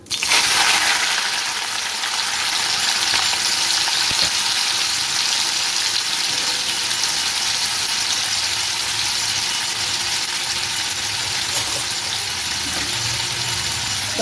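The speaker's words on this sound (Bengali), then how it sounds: "কড়াইতে আমি তেল দিয়ে দিয়েছি। এবার আমি চিংড়ি মাছগুলো ছেড়ে দেবো।" Prawns frying in hot oil in a wok give off a loud, steady, continuous sizzle with no talking, holding evenly throughout.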